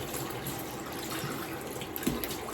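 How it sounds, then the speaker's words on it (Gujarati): Water poured or running as an offering to a deity at a home shrine, a steady soft trickle and splash heard quietly throughout, with a brief louder splash near the end. "ભગવાને પાણી પણ આપવું પડશે ને, પાણી વિના ના ચાલે ને ઠાકોરજીને"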